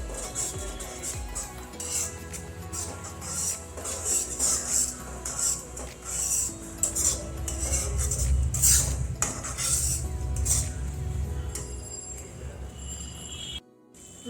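Masala cooked with cream is stirred in a pan for chilli paneer, a metal spoon clinking and scraping repeatedly against the pan over a low bubbling background, with a brief cutoff near the end.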